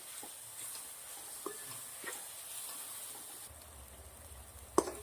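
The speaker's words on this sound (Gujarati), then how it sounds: "ડુંગળી ટામેટા સરસ મજાના શેકાઈ ગયા છે" Onions and tomatoes frying in a pan for kaju haldar nu shaak, a faint soft sizzle with occasional stirring scrapes and a sharp clink near the end, no talk.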